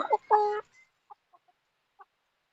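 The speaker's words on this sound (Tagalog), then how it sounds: "manok" Chickens being fed on a small backyard farm give a few short clucks, one louder call near the start followed by scattered soft clucks in otherwise quiet surroundings.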